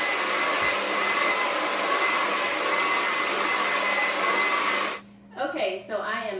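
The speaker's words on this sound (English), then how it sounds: "I am done blow drying my hair" A handheld hair dryer blows loud and steady at close range for about five seconds while drying hair, then shuts off, leaving brief quiet rustling.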